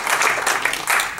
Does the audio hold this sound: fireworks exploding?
no